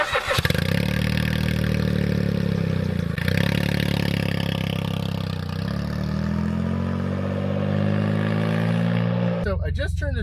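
A Smart car's small engine starts and pulls away, running steadily and loudly with a gradual rise in pitch as it accelerates, followed by a brief clatter near the end.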